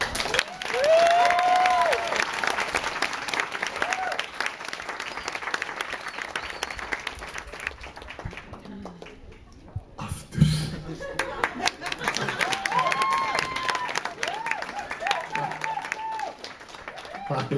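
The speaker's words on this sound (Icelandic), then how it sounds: "Það er gott að fá smá upphituna klapp núna." An audience applauds at a speech event, a dense sustained clapping from a crowd that fades briefly midway and then swells again, with cheers and voices mixed in.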